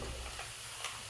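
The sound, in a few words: peanuts frying in oil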